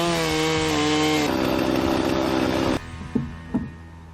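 A chainsaw cuts a V notch into a log: loud, steady engine whine that shifts pitch as the bar bites into the wood, then drops to a low idle with a couple of brief knocks.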